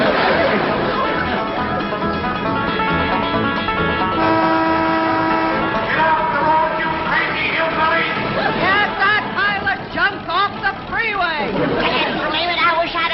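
Car horns honk repeatedly in freeway traffic, overlapping toots and blasts under a busy mix of voices and chatter.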